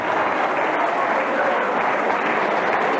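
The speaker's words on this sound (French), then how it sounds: "on peut les applaudir très très fort" An audience at a rock dance competition podium claps steadily and loudly for a couple, a dense, even roar of applause lasting throughout.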